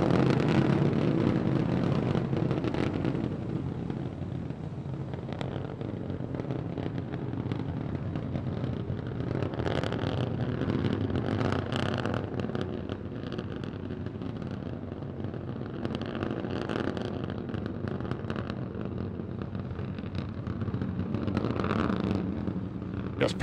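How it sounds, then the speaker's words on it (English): Three Raptor rocket engines of SpaceX Starship SN15 burn steadily in flight on a 10 km test, a continuous loud broadband roar with rumbling low end and crackling texture, unbroken throughout with no talk. "All three Raptor engines continuing to burn."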